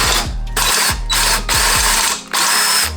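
A power drill bores through tough factory seatbelt webbing during a C5 Corvette harness install, with several loud, close whirring bursts that spin up and wind down in rough, grinding pulses separated by short pauses.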